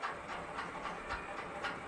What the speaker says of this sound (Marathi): मोहरी छान तडतडलेली आहे